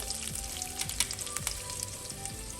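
Ribeye steak searing in caramelizing butter on a grill, a steady close sizzle with faint crackles and pops throughout, no voices.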